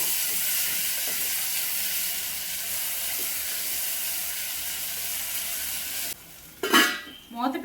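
Two medium-sized tomatoes cook in a hot pan, giving a steady bright sizzle and hiss that cuts off abruptly, followed by a couple of short scraping and clattering sounds of the pan close by.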